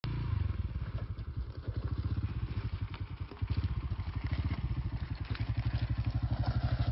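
A motorcycle engine chugging on a mountain road tour from Lahore toward Kashmir through Murree and Nathia Gali, a close, steady rhythmic thump with one brief dip midway.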